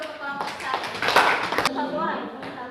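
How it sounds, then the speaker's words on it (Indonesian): Students in a classroom clap for a group, a burst of hand claps that swells and then settles, with children's voices and the teacher talking throughout. "Tepuk tangan dulu untuk kelompok"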